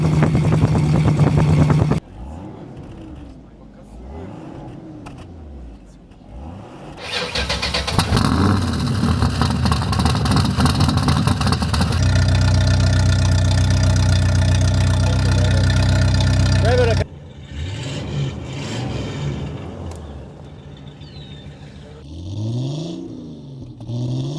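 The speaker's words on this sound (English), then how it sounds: "here are the 6, again, exhaust notes in the same order as before" Six classic car engines, including a 1972 Pinto and a 1934 Duesenberg Model J, idle, rev and rumble one after another, each with a distinct exhaust note, some loud and close, separated by brief gaps.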